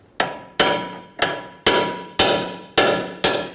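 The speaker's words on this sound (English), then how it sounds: "Now continue to tap on this here until this ball joint separates." Seven sharp hammer blows ring out on a steel steering knuckle of a 2011-2015 Kia Sorento, working to separate the front lower ball joint, each strike loud and close with a short metallic decay, spaced roughly half a second apart.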